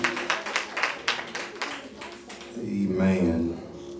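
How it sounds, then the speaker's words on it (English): Church congregation clapping hands in praise, a run of sharp, rhythmic claps under a speaking voice that fade out as a swelling crowd response takes over. "hand clap for praise"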